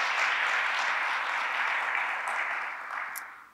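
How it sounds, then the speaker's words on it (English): Applause from a church congregation honoring award recipients, a steady broad wash of clapping that holds for several seconds and then begins to thin and fade toward the end. "Let's give them another round of applause."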